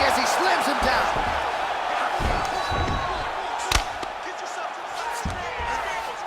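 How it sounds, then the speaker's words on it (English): A wrestler slams his opponent onto the canvas in a UFC 4 video game bout, with a sharp impact thud rising above steady arena crowd noise and commentary. "the canvas is shaking as he slams him down"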